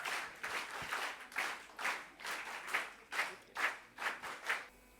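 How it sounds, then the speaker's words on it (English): An audience at a school spiritual retreat claps to welcome a speaker, a faint but steady burst of rhythmic applause with about ten distinct pulses over a few seconds. "So let us all welcome such an outstanding person personality with a huge round of applause"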